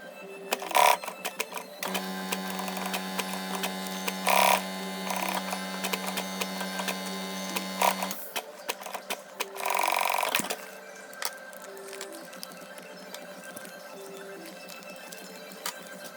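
A sewing machine stitches a Dyneema drawstring bag in short bursts, its motor humming steadily between faint clicks and pauses, close and fairly quiet with no voices.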